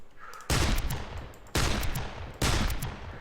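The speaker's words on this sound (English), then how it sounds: "Or I could shoot the dude with the aura and see what happens." Gunfire from the Darkest of Days video game: three loud, sustained bursts of shooting in quick succession, each starting sharply and filling the space, with no talking over them.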